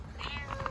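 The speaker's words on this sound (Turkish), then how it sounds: "Buna rahat vermeyecek bu kediler." A cat found on the street gives a short, fairly faint meow, a single brief call with no one talking over it.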